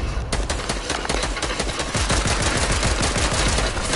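Rapid automatic gunfire from the video game Fortnite, a loud, dense stream of shots with brief bursts and steady firing throughout, standing alone without talk.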